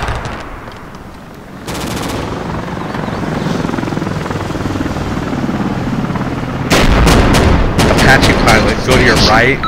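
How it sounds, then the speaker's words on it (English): Apache attack helicopter passing in an Arma-style military war game, a steady rotor drone swelling louder over the last few seconds, mixed with bursts of gunfire and artillery in the battle. "There's an enemy chopper to your right, Apache pilot. He just flew by me."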